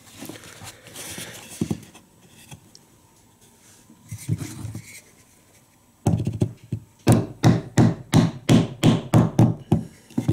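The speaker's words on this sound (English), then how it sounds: "So it might require us to tap it a little bit." Wooden bridle joint being tapped together, a few soft knocks early then a loud run of about eight sharp, evenly spaced taps close up near the end.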